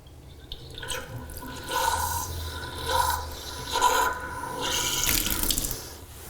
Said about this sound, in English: Okay, so let's just make sure we got water coming through.